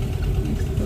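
A motorbike engine idles steadily nearby with a low, continuous rumble that holds constant and has no voices over it.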